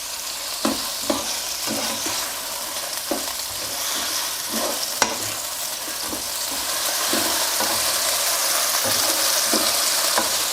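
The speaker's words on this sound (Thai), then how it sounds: "พอกระทะน้ำมันเริ่มร้อนใส่ไก่ลงไปได้เลยครับ" Chicken sizzles continuously in hot oil in a wok while a spatula scrapes and stirs at a regular, repeating rhythm.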